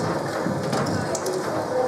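Rain falling outdoors on a city street gives a steady, dense broadband hiss with soft patter. It sounds close and even, with no breaks across the short stretch.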